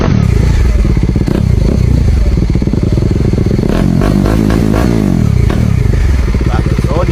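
A Kawasaki Dominar 400 UG motorcycle fitted with an aftermarket R77 muffler revs loudly up close, deep throaty exhaust rising and falling through several throttle blips with crackling on the decel.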